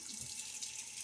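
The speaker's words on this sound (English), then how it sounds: "so I'm going to go ahead and add some water" A tap runs steadily into a sink while a shaving brush is wetted, a close, even hiss of flowing water with no voices.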